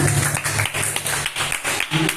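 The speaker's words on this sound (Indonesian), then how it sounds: "Oke, beri tepuk tangan dong buat teman-teman yang udah nanya." A room full of students at a community outreach session on gender bias breaks into loud, dense applause, a continuous crackle of many hands close by, with faint voices mixed in.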